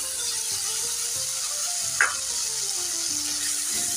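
Ginger, garlic and green chili paste frying in hot oil with whole-spice tempering, giving a steady close sizzle with one brief sharp spatter partway through.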